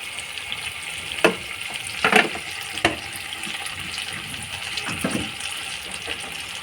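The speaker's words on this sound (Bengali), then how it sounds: "এবার টমেটোগুলো উল্টে দিয়েছি পেছন পিঠ ভাজা হোক" Tomatoes frying in a pan with salt added for a spicy mashed-tomato dish, a steady close sizzle broken by a few sharp louder crackles and spatters as the pieces are turned.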